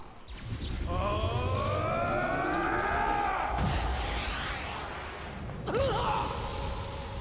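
Data Drain attack in .Hack//G.U. as a long swelling electronic wail with rising and falling siren-like tones, ending in a sharp whooshing hit near the end; loud and continuous.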